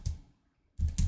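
A computer keyboard is typed on in short close bursts, a couple of quick soft key clicks at the start and end with a brief pause between.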